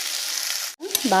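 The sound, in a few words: stirring potatoes and onions frying in a pan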